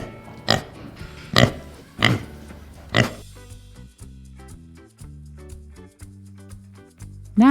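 Cartoonish pig oinks for a storybook, four sharp grunting snorts spaced about a second apart, followed by soft playful tonal notes and a rising squeal at the end.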